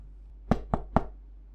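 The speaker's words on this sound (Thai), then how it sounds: "ได้ขึ้นมาเคาะห้องของคุณสุชาติ" Three firm, evenly spaced knocks on a condo room door, close and clear against a quiet low hum.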